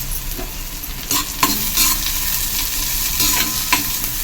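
Onions sautéing for an egg curry masala, a loud continuous sizzle with repeated scraping stirs of a spatula against the pan, close up and without talk.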